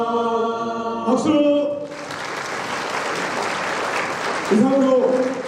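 Applause at a school entrance and appointment ceremony rises after a spoken call, a steady crowd clapping that runs about three seconds between stretches of amplified speech.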